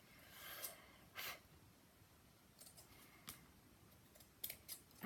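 Scissors snip through brocade fabric in a few faint, crisp cuts spaced irregularly, with quiet breathing between them.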